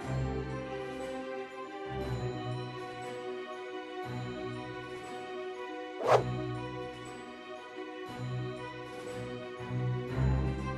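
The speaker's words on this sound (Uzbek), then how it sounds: "Buni uy ichidagi turgan it payqab, unga qarab hurka boshladi." A dog inside a house barks at a leopard outside at night, a few sharp barks and yips spaced apart over a dim, noisy background, moderately close but not loud.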